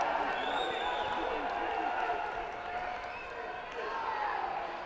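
A distant crowd cheers and applauds from a neighbouring ring at a women's world boxing championship, a steady broad roar filling the arena with a voice speaking over it.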